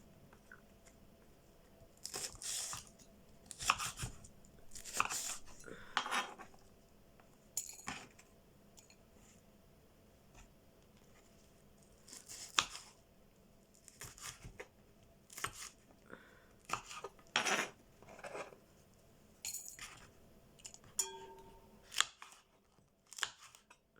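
A knife cuts vegetables into small pieces on a board in a series of short, sharp taps, irregular bursts with pauses between, close and fairly quiet with no talking.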